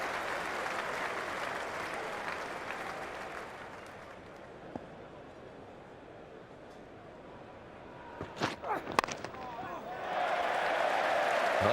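A crowd at a Lord's Ashes cricket Test in 2005 cheers and applauds, a broad wash of claps and roars that swells, fades under commentary, then rises loudly again at the end.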